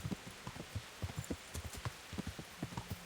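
Horse hooves clip-clopping in the video game Kingdom Come Deliverance, a faint, quick, uneven patter of hoofbeats that runs steadily throughout with no talking.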